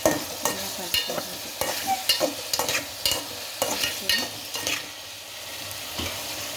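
A spoon scrapes and clatters through a tomato, potato and broad bean curry in a frying pan. The stirring strokes are close and irregular over a faint sizzle.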